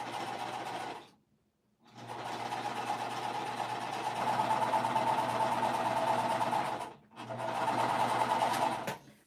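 Close sewing machine running through quilting cotton pieces in two long bursts, with a brief pause early on and another near the end, a steady mechanical hum.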